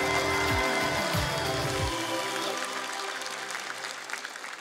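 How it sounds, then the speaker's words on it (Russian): A studio audience at a televised dance competition applauds loudly and continuously, with music tones fading out at the start as the clapping carries on. "Давайте позовем ваших конкурентов под бурные аплодисменты"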